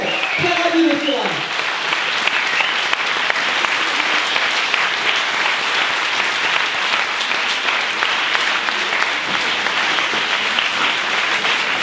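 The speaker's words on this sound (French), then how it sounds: "Applaudissements plus fort, s'il vous plaît." A conference audience at the Livres en Marches book festival applauds guests of honour, a full, steady clapping that continues for over ten seconds; a voice speaks briefly over the start.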